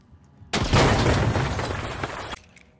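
A single frag grenade explodes against a wall in THE FINALS with a loud close boom, then a dense roar of rumbling debris that holds for about two seconds before cutting off.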